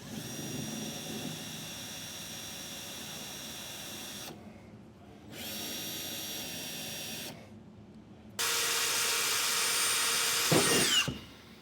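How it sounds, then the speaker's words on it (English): A power drill with a 1/8-inch bit whines in three separate bursts through a truck bed, with short pauses between them, the last burst louder and higher before it winds down. "Now we'll move up to our 1/8 inch drill bit and drill down through our bed."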